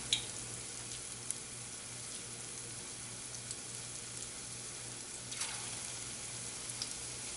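Lauki koftas frying slowly in oil over a low flame, a faint steady sizzle with soft crackles throughout and no talking.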